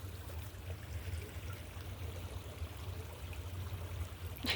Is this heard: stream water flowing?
yes